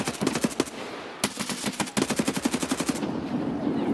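Bursts of automatic gunfire from a nearby shooter in Escape From Tarkov, rapid evenly spaced shots in several sustained volleys with short gaps.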